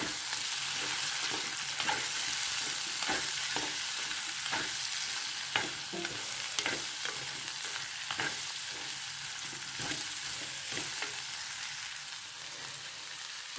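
Kerala-style fishless curry with vegetables is stirred and mixed in a pan, giving irregular soft scrapes and taps of a spoon over a steady, even frying sizzle, close but fairly quiet.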